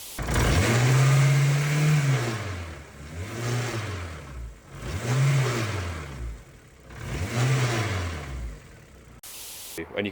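A Honda K20 engine with a custom rocker cover and a bad harmonic vibration revs up and falls back in four loud, close sweeps. A buzzing shake rides on the rising and falling engine tone.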